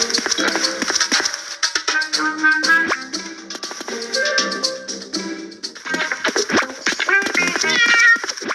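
A kitten meows repeatedly in a pet-raising game, with bright, insistent cries layered over busy, continuous game music and effects throughout.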